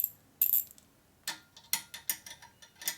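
Wrench ratcheting as a bolt is tightened on a 1947 Harley-Davidson EL knucklehead 74ci engine case, a quiet run of short clicking bursts, a few isolated then a steadier series, close and alone.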